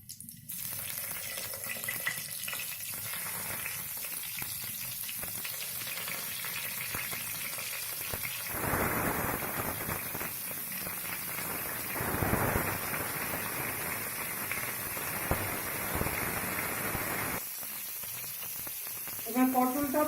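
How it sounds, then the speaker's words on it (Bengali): Pointed gourd pieces frying in hot mustard oil, a steady hiss that swells into a louder sizzle as the pieces go in, continuing for most of the stretch before easing slightly. "এবার তেলটা গরম হয়ে গেছে, এবার পটলগুলো আস্তে আস্তে ওর মধ্যে দিয়ে দিচ্ছি।"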